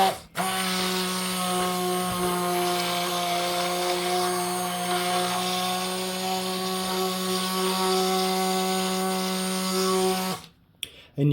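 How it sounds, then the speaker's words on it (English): An electric stick blender runs steadily while mixing soap, a loud continuous motor whine with strong harmonics lasting about ten seconds before cutting off abruptly, then a brief pause and a short restart at the end. "We'll just add our blender."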